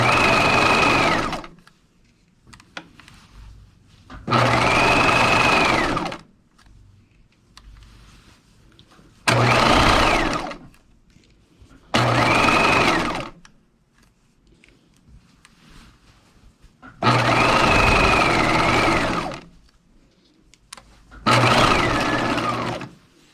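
A sewing machine stitches a seam on a swing coat in six loud bursts of fast whirring, each lasting a couple of seconds and separated by quiet pauses.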